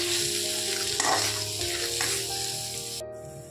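Onions sizzle briskly in a hot pan with ginger-garlic paste for a shahi kaju paneer masala, a steady crackling fry with a stirring scrape near the middle, heard close and alone.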